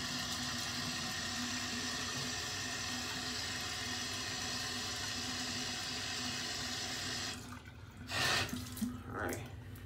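A sink tap runs in a steady, fairly quiet stream while the face is rinsed between shaving passes. Near the end the flow breaks into brief louder splashes as water is scooped up.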